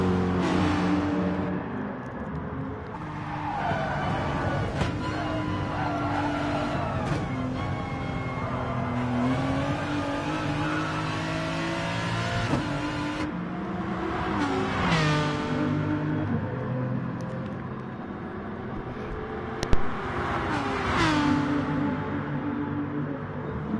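Identical Porsche 911 race cars in a sim racing game rev and accelerate up toward the first turn, engines rising and falling through gear changes, with several cars passing close and steady engine noise throughout.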